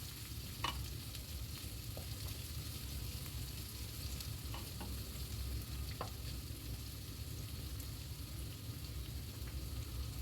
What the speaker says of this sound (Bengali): পেঁয়াজটাকে আমি আর একটু ভেজে নেবো